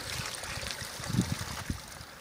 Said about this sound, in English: That water runs on the trail for a little part of the way down below.